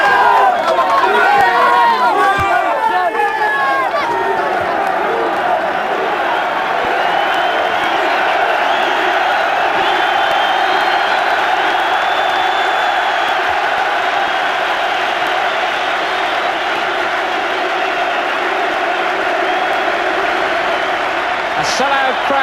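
A sellout crowd of 37,000 Newcastle United football fans cheers Keegan's farewell match, a vast continuous roar with chanting and whistles, loud and unbroken throughout.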